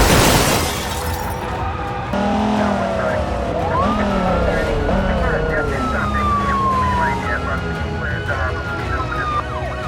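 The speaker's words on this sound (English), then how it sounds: "He spun out into an oncoming semi-truck with a heavy load." Car spinning out and crashing into an oncoming heavily loaded semi-truck in BeamNG Drive, a loud impact burst at the start followed by screeching, scraping metal and wailing emergency sirens sweeping in the background.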